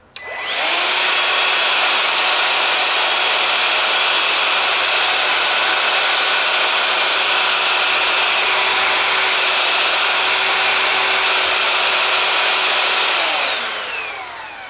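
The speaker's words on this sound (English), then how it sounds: "We're gonna go ahead and turn on the vacuum to get an idea, so that you have an idea of just about how loud this vacuum is." A Ryobi 18-Volt ONE+ 6-gallon cordless wet/dry vacuum, model P770, spins up and runs loud and steady with a sustained whine for over ten seconds before winding down at the end.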